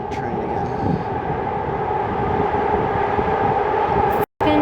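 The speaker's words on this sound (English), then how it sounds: "let me just wait for this train again." Train passing close by in Kensington, a loud continuous rumble and rail roar that holds steady for several seconds, with a short cut near the end and a person's voice partly under the noise.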